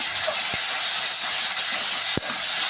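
Onion, ginger, garlic and tomato sauté in a pan, giving a steady, fairly loud sizzling hiss with no break, plus two short sharp clicks along the way.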